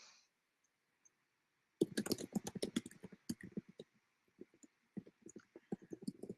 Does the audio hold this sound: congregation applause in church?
no